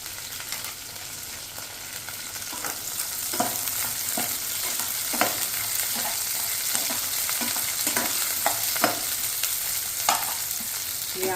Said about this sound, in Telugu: ఈ ఆనియన్, పచ్చిమిర్చి కొంచెం ఫ్రై అవ్వాలండి